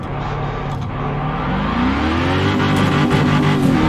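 A modified new Chevrolet Camaro's engine revs up steadily, loud and close, with its pitch rising over a few seconds.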